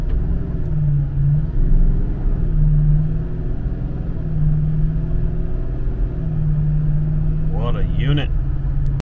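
A vehicle drives along a road towing a 2002 Sun Tracker pontoon boat with a Mercury outboard, producing a steady low engine and road rumble, with a brief voice near the end.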